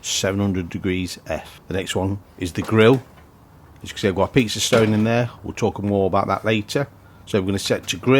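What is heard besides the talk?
No everyday noises stand out.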